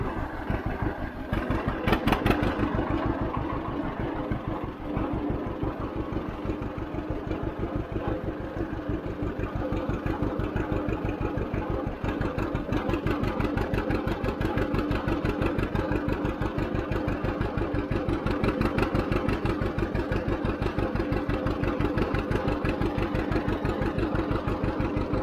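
1951 John Deere A tractor climbing a hill in fifth gear: a steady, rapid two-cylinder putt-putt thumping evenly throughout, close and continuous with no talk.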